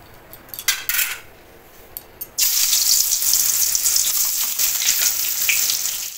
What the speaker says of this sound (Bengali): এই খন্ডা মাছে নুন হলুদ দিয়ে দিয়েছি, দেখে মাছটা ভাজবো।